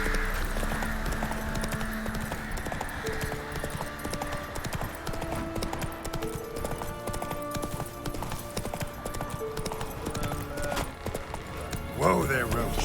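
Steady clip-clop of the horse Roach galloping in The Witcher 3 at the Crookback Bog, rhythmic hoofbeats beneath game music and a voice, ending with a neigh.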